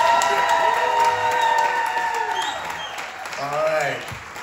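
Audience applause for the guests at a Supergirl fan convention Q&A with two cast members, steady clapping from the crowd with voices and some speech layered over it.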